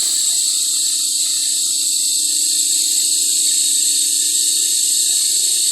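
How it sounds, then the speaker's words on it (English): A Marathon brand 1/3 horsepower, 1800 RPM rotoverter electric motor runs on 120-volt grid power, giving a loud, perfectly steady high hiss and whine with a faint low hum and no variation throughout. "RPM rotoverter motor again. Marathon brand, 1/3 horsepower."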